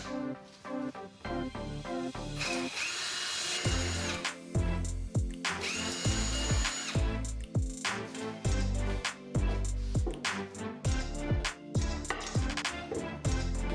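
A power drill whirs in repeated bursts, biting into pine wood with grinding, rising and falling motor whine, close and loud, no talking.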